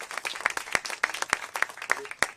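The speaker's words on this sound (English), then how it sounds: "really a round of applause for them" A round of applause at an outdoor Dallas Parks ceremonial event at Five Mile Creek, crisp claps from a small crowd repeating rapidly and evenly for a couple of seconds, fairly close.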